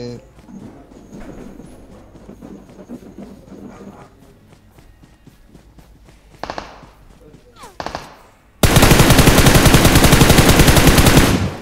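Gunfire in a classic video game match: scattered footsteps and a few single shots, then a sustained loud burst of rapid automatic fire near the end, with voices chattering over the game.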